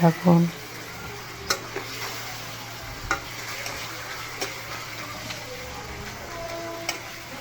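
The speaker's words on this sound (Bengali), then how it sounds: "এর মধ্যে আমি একটু একটু করে চিংড়ি মাছগুলো দিয়ে দিব দিয়ে এখন এটাকে আমি লাল লাল করে ভেজে নেব" Prawns fry in hot oil in a pan, a continuous soft sizzle with occasional spatula taps and scrapes, opening with a louder clatter as they go in.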